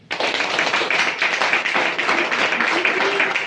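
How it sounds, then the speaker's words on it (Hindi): Loud applause from an audience at a gathering, a dense steady clatter of many hands clapping together throughout, close and sustained without pause. "हमारी सुनीता जी के लिए जोरदार ताली।"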